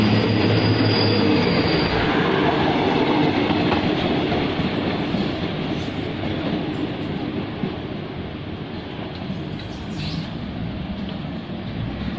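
Special express train 43 to Surat Thani pulls into Bang Sue station with a loud, continuous rumble and clatter of wheels on rails that eases slightly as it slows.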